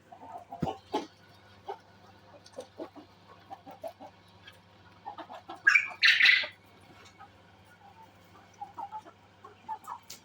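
Scattered soft clucks from several Sussex chickens, then a sudden burst of loud, frantic squawking midway before the clucking resumes sporadically.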